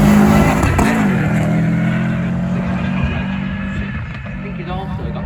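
A Triumph TR7 rally car, number 46, runs on a rally stage. Its engine revs loud and close at first, with a sharp throttle blip, then fades gradually as the car moves away.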